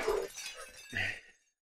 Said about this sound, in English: Glass sound.